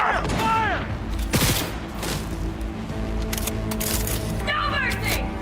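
Gunfire breaks out in Cyberpunk 2077, with repeated sharp bursts and cracks over a dense, busy game mix, while voices shout in between.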